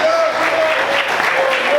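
A church congregation applauds loudly and steadily for about two seconds, a dense wash of clapping hands with a faint sustained tone running underneath.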